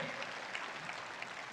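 Audience applause at a motivational event in Patna, steady clapping from a crowd filling the whole moment, moderately loud with no voices over it.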